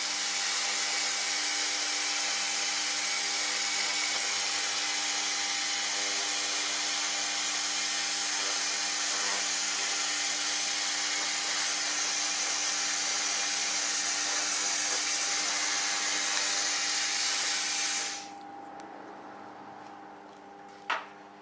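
A 1000W AccTek fiber laser cleaning machine scans across a metal surface with a steady, loud broadband hiss and hum that holds evenly for about eighteen seconds, then cuts off, leaving quiet background and one faint click.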